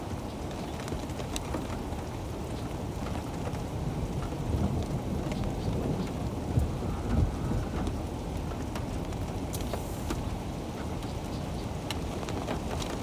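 Heavy rain falls steadily in a severe thunderstorm in Nebraska and South Dakota, a dense continuous hiss with low rolls of thunder swelling in the middle.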